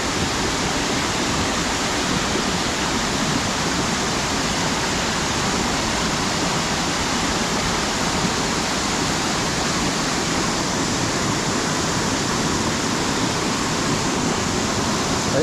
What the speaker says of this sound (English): this is where it's dropping down the main waterfall after coming underneath the road